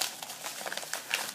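Small bubble-wrapped envelope package handled up close, with light crinkling and soft plastic rustles in short irregular bursts.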